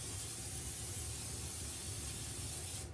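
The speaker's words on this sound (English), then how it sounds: "I'm gonna spray me a little more oil in here" Cooking oil sprayed from a can into a hot skillet, a steady close hiss lasting nearly three seconds before it cuts off abruptly.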